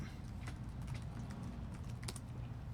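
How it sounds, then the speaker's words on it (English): Rapid keystrokes on a computer keyboard tapping along steadily at close range, quiet, with no talking over them. "I was typing to people on Mixer."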